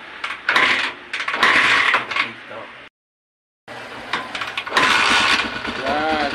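A motorcycle engine with freshly adjusted valve clearance sputters and revs in uneven bursts, cuts out briefly into silence, then fires again and runs rough and loud, with clinks and voices talking over it nearby.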